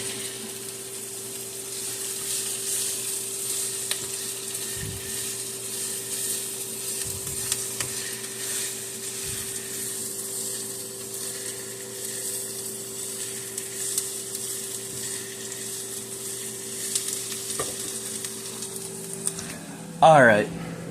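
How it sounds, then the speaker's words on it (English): A pot of water heats on the stove for spaghetti, close to boiling, giving off a soft, steady hiss and faint bubbling with a constant low hum, then ending in a brief clatter. "That's not quite boiling yet."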